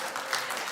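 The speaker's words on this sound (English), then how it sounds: "Clap it like you mean it." Dense, vigorous clapping from a television talk show studio audience, a brief continuous burst of applause with no talking.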